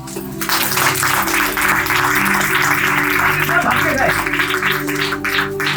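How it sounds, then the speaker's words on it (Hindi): A congregation at a church sermon claps together, a steady broad wash of hands clapping that starts just after the opening and runs on over a low sustained hum and tonal background. "ताली मारेंगे।"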